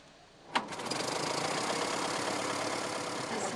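A 1907 Locomobile vintage car engine catches with a sharp start, then runs steadily with a fast, even ticking chatter, moderately close and without voices.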